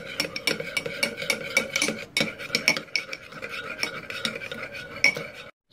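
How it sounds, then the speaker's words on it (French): A spoon or whisk scrapes and taps against a bowl, mixing a sauce that contains half a teaspoon of mustard, in uneven, close strokes that stop abruptly at the end. "Et puis une demi-cuillère à café de moutarde. Et on mélange tout ça."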